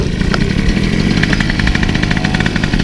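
Engine of a new Peugeot moped running steadily and loudly close by, with a continuous buzzing drone and rapid pulsing throughout, no talk over it.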